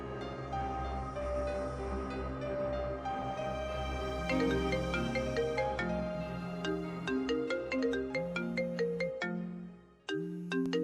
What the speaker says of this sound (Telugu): ఇప్పుడు ఫోన్ చేస్తుందండి